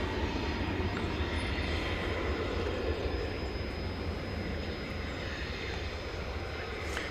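A jet airliner rumbles at DFW Airport at night, a steady broad roar that holds throughout without voices.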